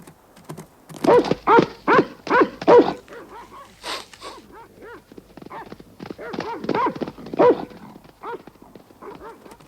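A dog barking in a snowy mountain setting, several loud close barks in quick succession, then a looser run of yaps and yelps, mixed with voices.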